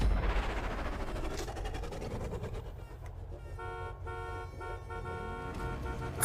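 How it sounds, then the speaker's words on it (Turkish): A car horn honks repeatedly in steady tones over a continuous engine rumble and busy game noise, in GTA Online during a stunt race. "Korna sesi duyuyor musun?"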